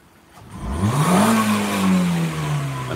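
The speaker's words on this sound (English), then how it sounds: "And a nice little wide open throttle there." A car engine revs up hard at wide open throttle, climbing in pitch and holding at high revs, loud and close, with no talk over it.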